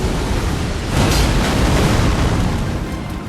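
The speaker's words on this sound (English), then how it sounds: "Ignite the sacred sword with blasphemous flames, then unleash a forward blast." Blasphemous Blade's forward flame blast in the Elden Ring video game, a loud, dense roaring whoosh that swells after the first second and then holds steadily with no talking.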